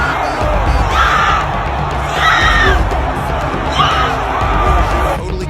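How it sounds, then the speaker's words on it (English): A crowd at a national mixed martial arts championship fight roars and chants in repeated loud rising bursts over a constant dense crowd din. "the crowd began to chant"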